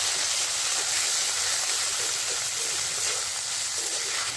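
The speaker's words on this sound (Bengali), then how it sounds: "আদা আর জিরেটা যে আমি বেটে রেখেছিলাম অল্প সেটা দিয়ে একটু ভেজে নেব" Ginger and cumin paste frying in hot oil for a Bengali banana-flower dish, giving a steady, even sizzle with a constant hiss throughout and no talking.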